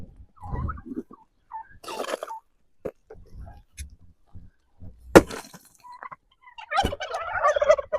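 Farm turkeys gobble in several loud, close bursts, with scattered clucks and rustling between calls and a longer chorus of gobbling near the end.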